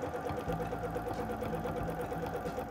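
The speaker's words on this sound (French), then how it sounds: "J'épingle et je pique cette fois-ci à l'aide d'un point zigzag plat pour garder l'élasticité." Sewing machine running steadily while stitching a flat zigzag seam on stretch knit fabric for an easy two-material sweater, a continuous close mechanical whir with rapid needle ticking and no talking.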